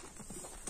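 A young racehorse colt's hooves clip-clop in a quick, close, rhythmic run of hoofbeats, with no talking over them.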